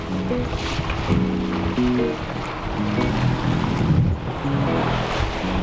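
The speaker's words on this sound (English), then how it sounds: "This is the most wide open ocean we've seen." Sailboat running fast through wide open ocean swell on an overcast, foggy morning, with steady wave wash and water rushing along the hull, plus constant wind rumble and a faint low engine-like drone throughout.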